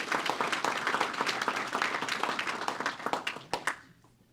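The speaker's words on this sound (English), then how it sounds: "So let's give them a round of applause." An audience at a crime victims' rights luncheon gives a round of applause, dense close clapping that holds steady before thinning to scattered claps and fading out.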